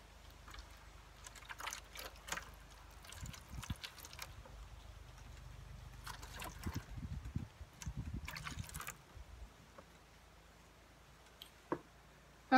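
Water trickles and splashes as it is poured out of seed starting trays from a greenhouse kit, coming in quiet, intermittent bursts with soft ticks and clicks and short pauses between pours.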